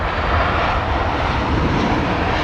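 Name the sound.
aircraft approaching London Heathrow Airport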